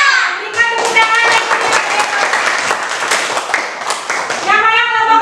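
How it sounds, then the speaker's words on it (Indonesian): Elementary school children clap their hands together in a classroom, a loud, busy round of applause lasting several seconds with young voices calling out over it. "Berikan tepuk tangan."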